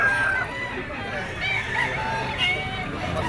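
Roosters and chickens at a Grotto pet tiangge market crow and cluck amid a steady babble of crowd chatter and nearby voices.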